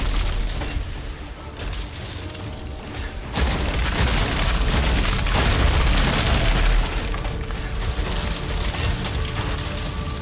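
A dome ability deployed in the video game Witchfire lands with a heavy, booming surge that lifts the already dense, loud wash of ice-themed combat noise, followed by a sustained roar before easing slightly.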